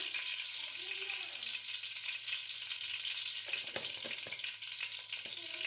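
Mustard seeds splutter and crackle in hot oil as potato and drumstick are cooked, giving a steady sizzle with quick popping bursts throughout at close range.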